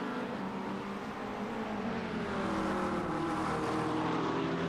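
A Chevy V8 Supercar engine drones in a racing video game at Road America, a steady, fairly faint continuous roar with slowly shifting pitch and no talking.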